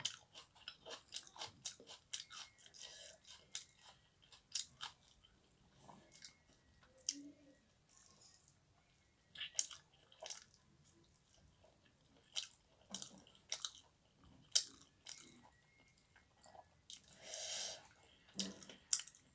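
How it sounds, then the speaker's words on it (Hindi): Close, quiet chewing of raw onion with roti, irregular crunchy bites and soft mouth sounds alone over a faint background, no talk. "प्याज का साथ भी और अच्छा लगता है चिबाने से।"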